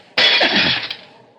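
Window glass shattering in one sudden loud crash, a bright burst of breaking that fades over about a second, with no voices.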